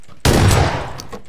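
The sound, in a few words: gunfire in a video game (CS:GO)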